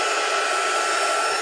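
Hair dryer blowing on a craft banner trimmed with nylon lace, a loud, steady, unbroken roar of airflow close to the mic with no pauses.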